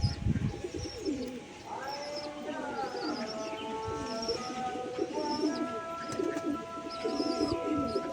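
Low, throaty cooing from a male pigeon repeats throughout, with a few faint chirps from other birds in the background.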